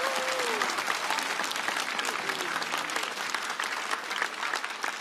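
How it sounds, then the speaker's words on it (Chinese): A studio audience at a stand-up comedy show claps for comedian Liang Haiyuan in sustained, loud, dense applause that stays steady throughout, with a brief voice faintly audible near the start. "掌声再次给海源"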